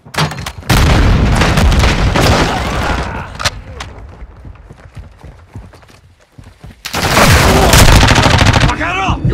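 Loud explosions and gunfire in Modern Warfare II team deathmatch on Mercado Las Almas, with heavy bursts of shots, a lull in the middle, then another intense volley of booms and rapid fire.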